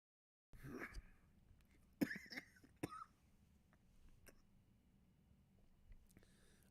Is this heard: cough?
yes